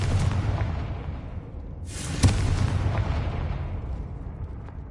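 A deep, rumbling explosion from the Confringo blasting spell in Hogwarts Legacy, with one sharp burst partway through over a sustained low roar that slowly fades.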